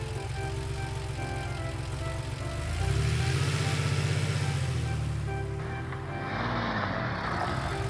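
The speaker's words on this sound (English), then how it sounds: "Police car." A police car from a lineup of emergency vehicles, heard as a steady engine drone that swells louder midway and then eases off, with no voices.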